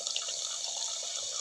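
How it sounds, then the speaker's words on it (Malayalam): Tamarind water poured into a pan for fish curry, a steady close splash and trickle of liquid running unbroken, with no talking. "അതിലേക്ക് പുളി പിഴിഞ്ഞ വെള്ളം ഒഴിക്കുക."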